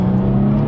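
A BMW 335i with the N55 engine accelerates hard from inside, a loud, steady engine drone with a strong low hum held throughout and no talking.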